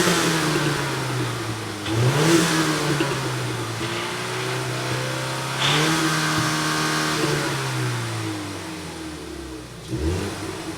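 Ford Mustang EcoBoost on its stock exhaust, revved several times: quiet, muted engine rises and falls with a thin, subdued tone and no sharp exhaust note, heard alone without talk.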